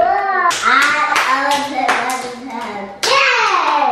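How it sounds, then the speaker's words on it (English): A child's hands clapping a few times at home while someone talks and sings over it, with clear, close claps mixed under the lively voices. "Clap your hands"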